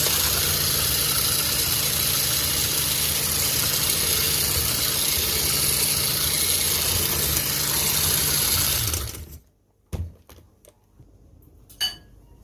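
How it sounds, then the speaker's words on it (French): Eggs whisked for sugar-free marshmallows, most likely by an electric mixer, giving a loud steady whirring buzz that runs for about nine seconds and then cuts off, followed by a few faint clicks. "maintenant, on va venir fouetter un petit peu les œufs."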